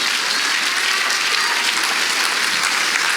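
An audience at an evangelist's sermon applauding and cheering, a loud, continuous wash of clapping that fills the room and holds steady throughout.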